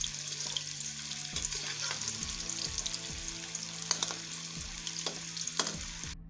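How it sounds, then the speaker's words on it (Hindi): Garlic fries in mustard oil for a lasoora pickle, giving a steady, close sizzle. Repeated scraping strokes of a spoon stirring in the pan sit on top, and no one talks. "इस तरह लहसुनों को अच्छे तरीके से फ्राई कर लेना है"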